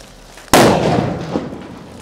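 A line gun firework goes off with one sudden loud bang, followed by a long crackling, hissing tail that fades gradually, with no talk over it.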